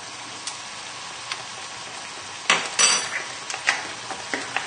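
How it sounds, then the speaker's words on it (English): A stuck paprika spice jar with its lid screwed back on is shaken by hand in a home kitchen, giving a few scattered rattles and then a cluster of louder, quick clattering shakes. "If you find that you've got spices like this and they stick, just put the lid back on and give it a shake"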